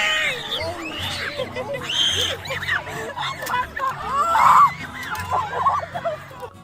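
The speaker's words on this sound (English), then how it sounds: "You can hear everybody else like screaming, like laughing" A crowd screams, shrieks and laughs over loud overlapping chatter as a 17-year-old is stormed and attacked with nobody stepping in; the chaotic, high-pitched yelling rises and falls throughout, peaking near the end.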